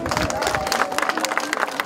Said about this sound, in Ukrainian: Зустріти безвіз разом з президентом зібрався величезний натовп